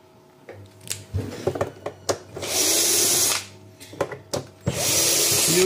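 A Roborock S5 Max robot vacuum being opened, with a star-tip screwdriver or electric driver removing its screws: short clicks and handling knocks, then a steady whirring burst of around two seconds and a few more brief whirs, close up.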